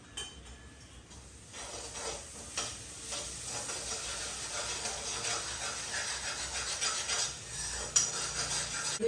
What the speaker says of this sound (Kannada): ಚೆನ್ನಾಗಿ ಕುದಿ ಕುದಿ ಬರ್ತಾ ಇದೆ ಪಾಕ ಬರಬೇಕು